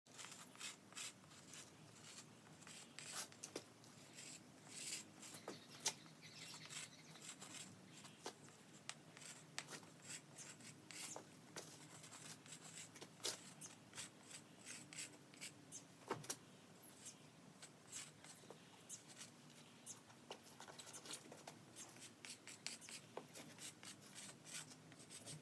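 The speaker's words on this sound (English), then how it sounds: "Using my chalk, I'm going to write all 26 letters of the alphabet." Chalk scrapes the ground, writing out the letters of the alphabet in many short, faint, scratchy strokes, each separated by brief pauses, heard close and quiet with no speech.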